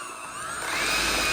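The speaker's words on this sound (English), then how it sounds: "And then I just take a hand mixer." A hand mixer whirring into softened cream cheese in a small bowl, a steady high motor whine that rises and grows louder as it runs, with no talking.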